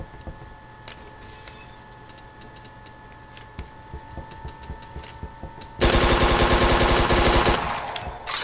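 AK-47 automatic fire in the online shooter Phantom Forces, with scattered distant shots and ticks at first, then a loud sustained burst of rapid gunfire near the end.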